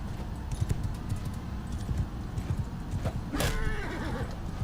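Video game horse with hooves clip-clopping in a steady rhythm, then a loud, bright neigh rising near the end. Both sounds are up close over a busy game soundscape.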